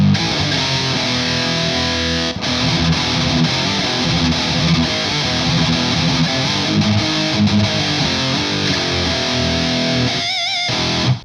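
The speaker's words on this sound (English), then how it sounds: "I just wanted to see if we could push a pretty crazy death metal tone on here" Heavy, fuzzy distorted death metal guitar riffing through an amp modeler plays loud and continuous, with chugging low notes and a brief dropout near the end.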